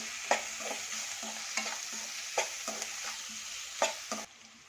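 Three sliced onions fry with salt in a pan for a beetroot palya, stirred in a steady rhythm of scraping strokes over a continuous moderate sizzle until the stirring stops.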